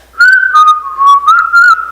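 A person whistles a short melodic phrase in several bursts, clear, close and alone with no talking.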